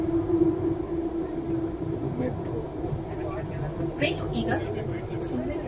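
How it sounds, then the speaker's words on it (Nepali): Riding a metro train in Bangalore, a steady low rumble of the moving carriage throughout, with a few brief squeals and clatters and people talking over it. "मेट्रोमा छ हामी।"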